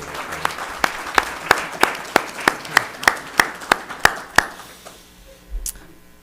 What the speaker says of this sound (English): I think it's okay that we clap for that.